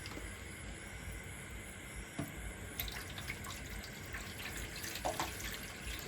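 Water pours into a Pureit water purifier at home late at night as a steady, close trickling wash, with a few faint knocks and clinks over the flow.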